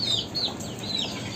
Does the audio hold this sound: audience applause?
no